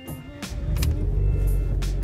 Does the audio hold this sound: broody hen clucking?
no